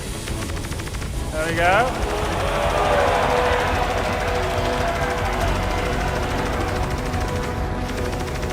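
An Anvil Valkyrie tail gunner fires in Star Citizen, a steady rattling stream of rapid shots that runs the whole time beneath a brief spoken remark and other voices.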